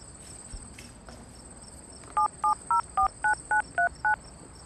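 A telephone number is keyed in as a rapid run of eight even dial-tone beeps, clear and close, with crickets chirping softly throughout the indoor background.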